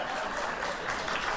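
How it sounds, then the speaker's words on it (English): Brief applause on a TV talk show as actor Grant Show is greeted, a steady patter of clapping that holds evenly for just over a second at moderate volume. "woman clapping for Grant Show."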